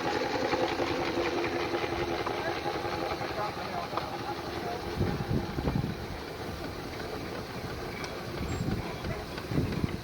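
A miniature steam traction engine with 3-speed gearing rolls past in an outdoor parade of miniature steam vehicles, giving a continuous, even mechanical rumble and chuff mixed with wind noise, with a few heavier knocks midway.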